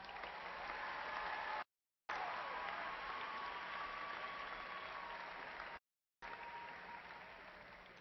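Sustained applause for graduates at a spring university commencement, a broad steady wash of clapping from a large crowd that continues throughout, broken by two brief silent gaps.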